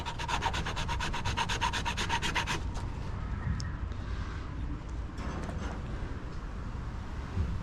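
A worn metal file rasps steadily back and forth over a piece of scrap non-ferrous metal, with a close, dry rhythmic scraping that later softens into lighter rubbing.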